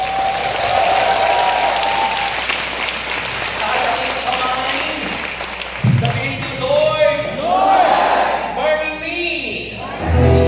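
A church congregation at a Batangas worship gathering applauds in a thick, loud burst for several seconds, then the clapping thins as a voice begins speaking over the fading crowd.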